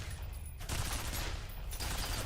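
Continuous rattling turret gunfire in the horror shooter video game F.E.A.R., a dense, unbroken barrage that stays loud and close throughout.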